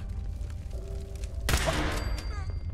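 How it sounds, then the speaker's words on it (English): A sudden loud gunshot blast with a ringing tail cuts in midway during a Fallout 4 firefight, following a quieter stretch of faint background noise. "Who's shooting and where from?"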